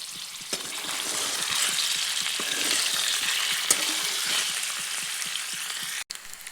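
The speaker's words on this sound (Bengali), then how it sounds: "এরপরে পনিরগুলি হালকা লাল লাল করে ভেজে নিচ্ছি।" Paneer cubes frying in hot oil in a kadai give a steady, close sizzle that crackles evenly for several seconds, with no talk.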